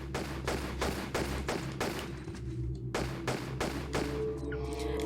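Pistol gunfire at bats in a Tomb Raider level editor game, a rapid series of evenly spaced loud shots, a short pause, then more shots ending with a metallic ringing tone.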